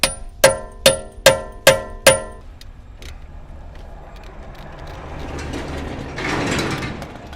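A tool working a wheel lock bolt off a Toyota Camry XSE wheel gives six sharp, evenly spaced metallic clanks up close, then a quieter stretch of faint clicks and scraping with a low rising rumble.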